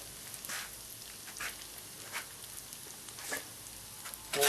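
Flour frying in hot oil as a roux is started for rabbit gravy, a soft steady sizzle with faint crackles and occasional swells of stirring.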